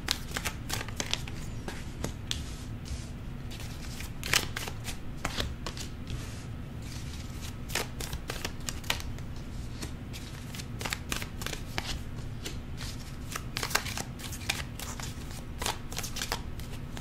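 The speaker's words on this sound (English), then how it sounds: "Let's pull your cards, see what additional messages we have for you." Tarot cards being shuffled continuously for a reading, a dense run of soft papery riffles and slaps close up, with a steady low hum underneath and no voices.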